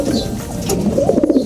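Racing pigeon cooing close by, a low soft throaty coo repeated in short pulses, steady and fairly loud with light background chirps.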